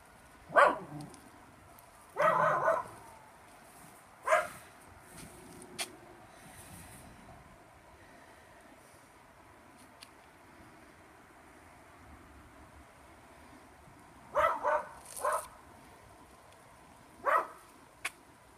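Dogs bark in a backyard in short scattered bursts, a few sharp barks at a time separated by long quiet gaps, moderately distant over faint wind noise.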